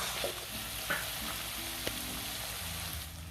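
Yogurt-laced masala frying gently over a low flame, a steady soft sizzle with occasional stirring scrapes and small taps of a spoon against the pan, close and continuous with no voices.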